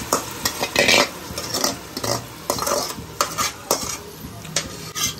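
A spoon stirs tomato puree into a sizzling potato biryani masala in a metal pot, giving close, loud, rhythmic scrapes and clanks over a constant frying hiss.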